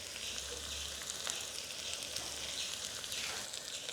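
Ginger-garlic paste with chili powder frying in a pan for chicken pulao, a steady moderate sizzle with light crackling and occasional soft stirring, no voices.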